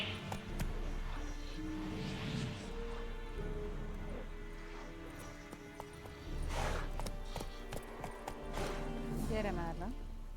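Roach, a horse in a video game, clip-clops steadily and snorts and whinnies at close range, with hoofbeats slowing at times, while game voices talk over it throughout.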